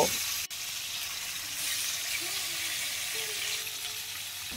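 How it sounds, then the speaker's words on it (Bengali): Fish pieces fry in hot oil that has been sprinkled with salt. A steady, moderately faint sizzle and hiss runs throughout, with one sharp click near the start and no talking. "আর এরপর মাছগুলো ভাজার জন্য দিয়ে দেব।"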